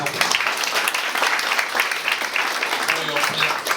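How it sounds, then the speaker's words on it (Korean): Audience applause at a gathering of Korean announcers, as a guest is introduced: dense, steady clapping from a crowd, fairly loud and continuous throughout. "박수"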